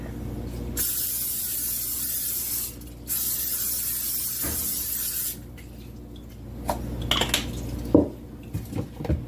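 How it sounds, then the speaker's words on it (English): Two long hissing bursts of aerosol cooking spray onto a metal pan, close and loud, followed by light clinks and taps of the pan and utensils. "Now we are going to spray our pan"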